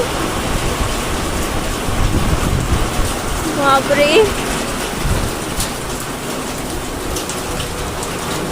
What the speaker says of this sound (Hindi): फुल ऑन इतनी भारी बारिश आ गई ना